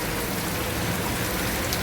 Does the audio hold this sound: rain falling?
yes